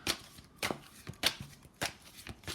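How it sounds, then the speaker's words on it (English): Tarot cards are shuffled in four crisp riffling bursts, roughly evenly spaced with short pauses between, close and fairly loud with no talk. "I want to shuffle again."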